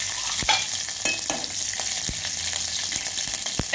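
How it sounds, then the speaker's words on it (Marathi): Mustard seeds, cumin and hot green chilli crackle in heated oil for a tempering. The sizzle is loud and continuous, broken by several sharp clicks of stirring close by. "आपण ही टाकली आहे मोहरी, जिरं आणि आता ही झाली आहे तिखट मिरची."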